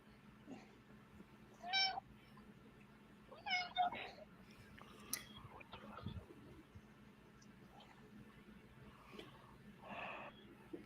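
A cat meows unhappily several times, short plaintive cries at a distance, faint against a quiet room hum with a few soft clicks and rustles.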